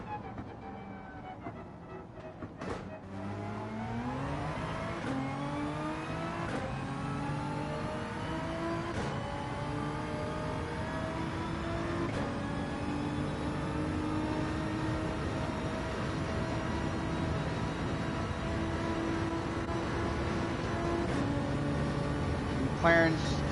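Race car engines during a Gran Turismo 7 race involving a McLaren, a sustained whine rising in pitch through repeated gear shifts, with the sharp shift changes at a few points, steady and close.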